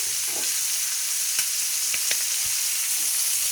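Rabbit pieces browning in a pan hiss with a steady, even sizzle, broken by a few sharp crackles and stirring taps, with no voices.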